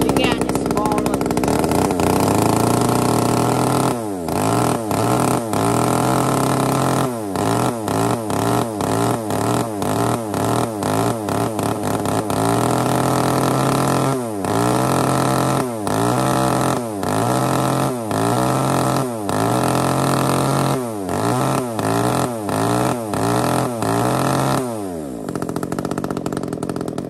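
A small 33cc chainsaw engine runs with a steady buzzing drone, broken by repeated sharp throttle blips that rise and fall in quick rhythmic bursts throughout, loud and close.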